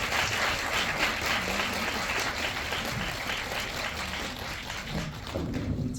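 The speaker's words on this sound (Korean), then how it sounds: "큰 박수로 두 분 맞아주세요." A cinema audience at a film talk applauds to welcome the director and an actor, a dense sustained clapping from a crowd indoors, steady throughout.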